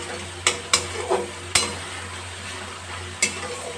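Spice paste with green chilies for an eggplant and poppy seed dish fries in a pan, a soft steady sizzle broken by several sharp spatula scrapes and taps against the pan.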